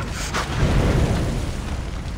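Explosion in the video game Far Cry 3 as a Jeep blows up: a deep, rumbling boom with a sharp burst at the start, then a long sustained low roar filling the whole stretch.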